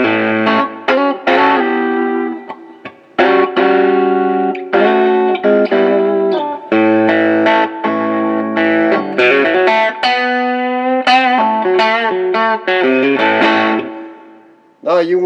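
An electric guitar played through a Mooer Solo distortion pedal rings out in loud, heavily distorted chords and riffs, sustained and sharply stopped in a rhythmic sequence, with no voice over it.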